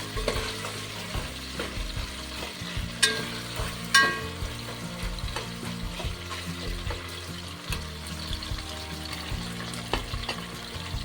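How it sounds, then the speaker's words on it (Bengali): Chicken curry cooking in a pan, a steady sizzling, frying crackle with soft bubbling and occasional stirring clinks and scrapes, close and continuous with no voices. "চিকেনটা হয়ে এসেছে, একটু ফুটছে"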